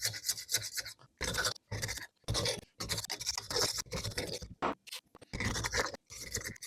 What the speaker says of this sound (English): So you just take your scraper, scrape away.